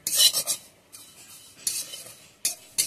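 Neem flowers fried in a pan over very low heat, stirred with a utensil that scrapes and rasps against the metal in bursts with short pauses between, close and fairly loud, no talking.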